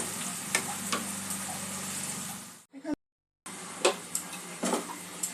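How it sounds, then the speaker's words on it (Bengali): Onion, ginger and garlic fry in a pan with a steady bright sizzle and scraping stirs, broken by a brief silent gap before the crackling frying resumes. "পেঁয়াজ, আদা, রসুন মিনিট খানেক আমি ভেজে নিয়েছি।"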